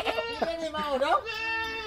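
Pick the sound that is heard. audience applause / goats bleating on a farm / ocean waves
goats bleating on a farm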